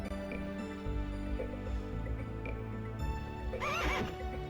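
A horse in the video game The Legend of Dragoon gives a single short whinny near the end, over looping game music.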